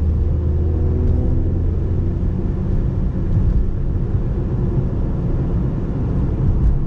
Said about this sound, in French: Le régime moteur il suit l'évolution de l'accélération.